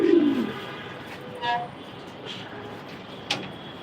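A short low coo from an injured pigeon opens, followed by faint scattered bird chirps and clicks against a quiet, noisy background.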